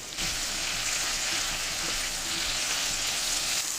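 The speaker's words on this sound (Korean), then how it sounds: "꽈리 고추를 기름에 살짝 볶아서 고추숨을 가라앉히고" Shishito peppers sizzle and crackle steadily as they stir-fry in hot oil, a dense frying hiss with occasional soft stirring sounds, close and continuous.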